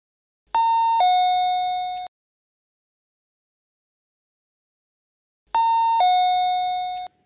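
Doorbell in a home, chiming twice as a ding-dong pair, each ring lasting about a second and a half with a long silent gap between, clear and alone.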